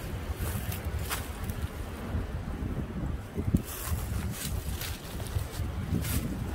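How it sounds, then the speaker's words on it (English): Steady wind gusting outdoors in an old cemetery, buffeting the microphone with a continuous low roar and rushing noise that swells and eases throughout, with no voices heard. "now that the wind has stopped"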